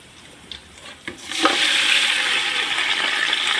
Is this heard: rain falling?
no